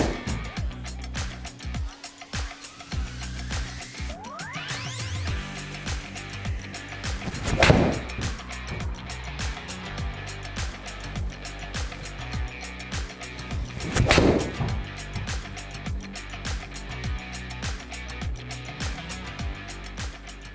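Golf shots struck with a Titleist club ring out twice as sharp, loud impacts a few seconds apart, standing out over a steady outdoor background.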